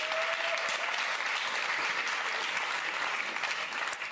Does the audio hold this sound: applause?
yes